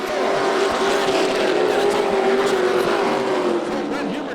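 Pro trucks race on a dirt speedway oval, their engines roaring loudly and steadily together with a sustained droning pitch as the pack runs close by, with an announcer faintly audible over the noise.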